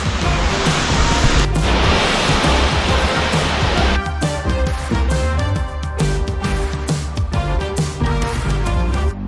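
Waterfall on the Bridal Veil Falls hike, a loud, steady broadband roar of falling water heard close up and unbroken throughout, with music layered over the second half.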